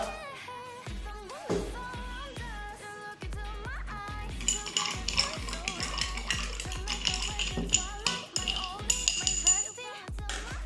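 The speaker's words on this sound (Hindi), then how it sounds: "तो अब मैं इसको स्टर करता हूं एक बार।" A spoon stirs a Vat 69 whisky cocktail with a few drops of lemon juice, giving a run of light, quick clinks and taps against the glass while someone talks over it.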